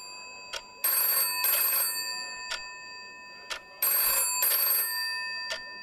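Old-style telephone bell rings in repeated double bursts in a quiet room scene of a Doctor Who audio drama, each ring loud and close, with short silent gaps between them and no voices.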